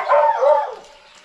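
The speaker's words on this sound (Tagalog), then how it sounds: "si Kunor, tumatahol." A dog gives a short, close bark or yelp that trails off quickly, with no other sounds around it.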